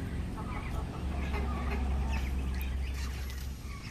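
Muscovy ducks and chickens at feeding time fill the air with a dense, steady mix of clucking and squawking poultry calls over a low background rumble.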